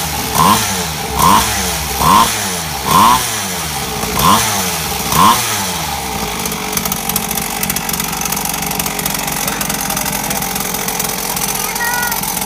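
A motorcycle engine starts and revs in a series of six sharp, rhythmic throttle blips, then settles into a steady rough idle, loud and close with no talk over it.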